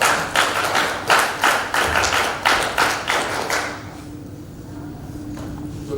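Rhythmic group clapping at a corporate jubilee event, a steady beat of loud synchronized claps from a crowd that stops after about four seconds, leaving a quiet room hum.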